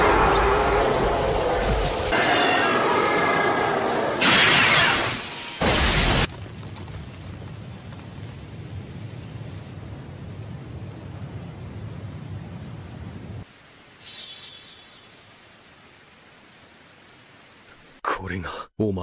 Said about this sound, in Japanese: この術は天から降る雷。